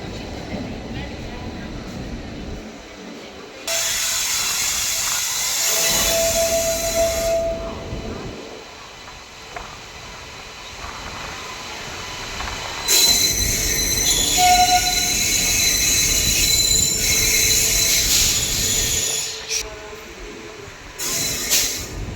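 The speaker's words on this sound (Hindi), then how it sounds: "ऑन टाइम अपनी ट्रेन यहाँ से छूट चुकी है" A train departs Anand Vihar Terminal platform 3: loud rumbling of rolling wagons with hissing and squealing wheels rises and falls in long stretches, and voices are audible around it.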